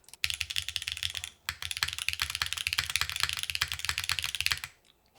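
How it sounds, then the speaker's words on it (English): Fast typing on a Qi65 mechanical keyboard with WINGTREE switches and an aluminum plate gives a dense, close run of crisp clacks, pausing briefly near the start and stopping just before the end, with no talking. "Ooh, this already sounds nice with these switches."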